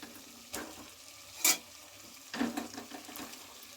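Fried new potatoes stirred into chicken curry in a pan give a faint sizzle under soft scraping and a few clinks of a spoon, with quiet gaps between the stirs.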